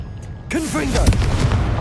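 A loud booming blast from the Confringo fire spell in Hogwarts Legacy erupts just after a shouted voice, followed by a rumbling, crackling burst that sustains at close range.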